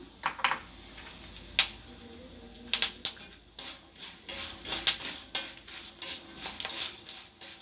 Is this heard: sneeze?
no